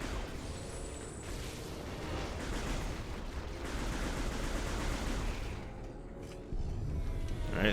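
Turrets keep firing in Metroid Prime 3: Corruption, a dense, continuous barrage of rapid shots and bursts that stays fairly quiet and steady throughout, with a brief dip near the end before it picks up again.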